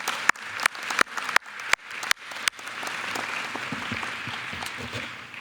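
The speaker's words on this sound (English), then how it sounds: "Another round of applause for Christy Angel." At a 2021 college commencement ceremony, a few loud, sharp claps ring out near the microphone, then a broad, sustained round of audience applause swells and holds steady.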